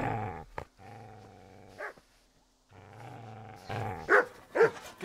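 A dog in the Kingdom Come: Deliverance video game growls low and steadily at the player, breaking off briefly before snarling again and letting out several sharp, loud barks close by.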